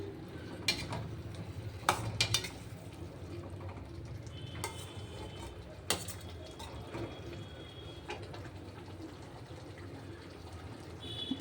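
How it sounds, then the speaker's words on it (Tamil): A spoon scrapes and clinks in a pan of radish curry with quiet bubbling and sizzling underneath, a few sharper knocks standing out over the low cooking noise. "ஃபாஸ்ட் பண்ணிட்டு நல்லா கிளறி விட்டுக்கலாம்."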